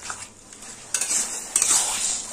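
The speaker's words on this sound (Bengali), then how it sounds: "দেখুন খুন্তি দিয়ে ঠিক এইভাবে একটু ঘেটে দিতে হবে" A spatula scrapes and stirs colocasia greens in a frying pan with a soft sizzle underneath, strokes repeating irregularly, close and loud, no voices.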